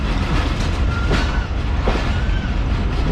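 The Pak Business Express train rolling along the railway on its Bahawalpur to Karachi run, a loud continuous rumble and rattle heard from on board, with faint screeching tones drifting through.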